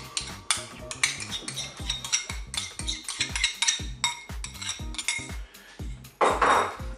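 A salad being mixed with a yogurt mustard sauce in a bowl, rapid rhythmic clinks and scrapes of utensils against the dish, close and busy, with a louder rattle near the end.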